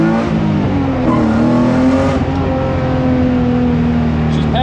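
A Honda CRX with a B18 engine accelerates hard around a big circle on a skid pad, its engine droning loud and steady with rising harmonic pitch throughout.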